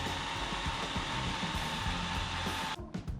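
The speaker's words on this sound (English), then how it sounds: "I only have this little pistol grip drill, so I'm actually going to drill this out to probably maybe 1/2 inch." A small pistol grip drill bores out a metal part, stepping up from a 1/4 inch bit toward 1/2 inch, with cutting oil applied. The motor whines steadily and loudly at close range for nearly three seconds, then winds down abruptly.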